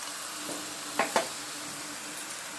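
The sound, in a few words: drumstick flowers and vegetables frying with panch phoron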